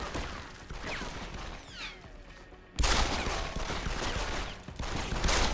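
Gunfire rattles in the video game Deus Ex: Human Revolution, with dense bursts of shots and crashing impacts that grow louder partway through, and no talk.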